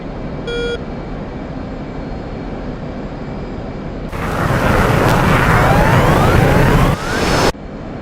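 Fixed-wing airplane engine drone in a flight video game, a steady hum that swells into a loud, broad roar midway and then drops back abruptly near the end.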